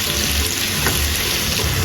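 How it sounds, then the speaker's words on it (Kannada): Sliced mushrooms and onions fry in a hot pan with a dense, continuous sizzle that holds steady and close throughout. "ಸ್ವಲ್ಪ ಈರುಳ್ಳಿ ಫ್ರೈ ಆದಮೇಲೆ ಇದರಲ್ಲಿ ನಾನು 1 ಕಪ್ಪು ಮಶ್ರೂಮ್ ತಗೊಂಡಿದ್ದೀನಿ"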